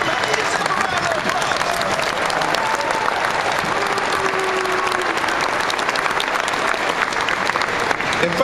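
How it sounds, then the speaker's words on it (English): A large seated crowd at an '80s-themed event rises and applauds, giving steady, loud, sustained clapping with some faint voices and cheering mixed in. "get up, stand up, and give yourself a round of applause"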